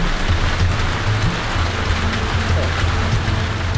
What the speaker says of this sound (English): the rain makes it hard to see anything